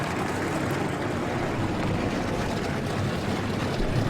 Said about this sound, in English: And the engines are fired up.